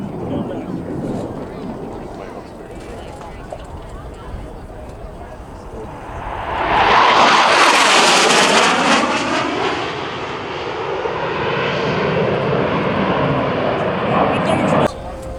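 Harrier jet at an air show braking and decelerating as it passes, a loud rushing roar that swells midway and lingers, with an announcer talking over it.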